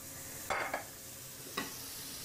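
Butter melting in a pan on the stovetop makes a soft, continuous sizzle, with a few brief louder crackles and scrapes as it is stirred, near and without talk.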